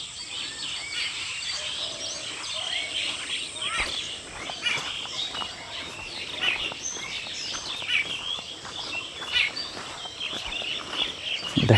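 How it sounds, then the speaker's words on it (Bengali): Dense chorus of many birds chirping and singing at dawn in a misty summer village mahogany grove, overlapping calls continuous and fairly close, with soft background rustle and no talking. "আপনারা শুধু পাখির কলতান শোনেন।"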